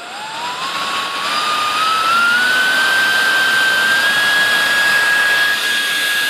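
A server-sourced electric ducted fan runs at about half throttle, a loud, steady high-pitched whine whose pitch climbs smoothly over the first few seconds and then holds. The roar is constant and close, with no talking.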